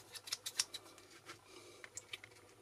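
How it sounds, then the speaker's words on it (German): Scissors snip through thin vinyl foil for a plotted lettering project, a quick run of small crisp clicks and cuts followed by a few sparser snips, close and fairly quiet. "Probiere ich auch gleich mal die Schere aus"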